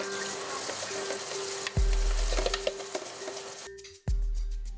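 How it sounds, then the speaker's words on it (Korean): Running water spraying broadly and steadily while a cat's water fountain is washed at home, with a couple of heavy thumps and a brief pause partway through. "시끄럽게 분사되는 물소리에 예민해진 녀석."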